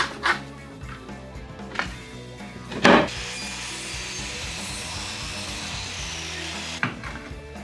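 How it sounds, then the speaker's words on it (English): Saw cutting a miter in reclaimed timber for shed doors, with a few short knocks and handling sounds before a steady, continuous rasping stroke close by. "doing a bit of a miter cut on the front"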